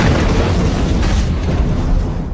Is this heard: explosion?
yes